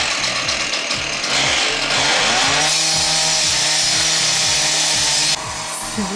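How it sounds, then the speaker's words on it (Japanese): A loud power saw cuts through a utility pole during pole replacement work outside a window, its engine roaring steadily with rising and falling pitch for several seconds, close and harsh, with no talking. "どうやら電柱を切ってるみたいです。"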